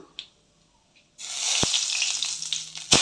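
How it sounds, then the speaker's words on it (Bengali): Black cumin seeds frying in hot oil as washed snake gourd is dropped into the pan, a quiet start then a sudden loud burst of sizzling that holds steady, with a spoon clink or two near the end. "কালো জিরেটাকে ভালো করে ভেজে নিয়ে দিয়ে দিব ধুয়ে রাখা চিচিঙ্গাগুলো"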